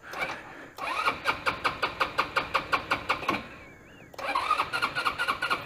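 A GY6 scooter engine fitted with an adjustable yellow CDI box is kickstarted, giving a close, evenly spaced series of sharp chugging strokes. After a short pause a second round of kicks repeats the rhythm.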